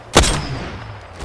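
A single loud gunshot in a video game cracks out sharply near the start, leaving a rumbling tail that slowly fades, with no other shots following.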